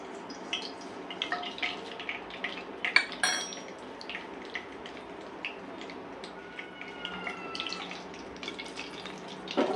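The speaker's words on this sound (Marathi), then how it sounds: "1 टीस्पून भरून आपल्याला इथे घालायचं आहे राई। तेल मंडळी व्यवस्थित गरम झालेलं आहे।" Mustard seeds dropped into a pan of properly heated oil for a vegetable dish, giving light crackling and popping spatters with a few sharper clinks, close and steady throughout, no talking.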